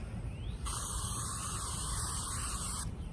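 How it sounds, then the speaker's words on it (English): Aerosol spray hisses onto hands in a single steady burst of about two seconds, loud and close, with no talking over it. "That's why I spray it on my hands"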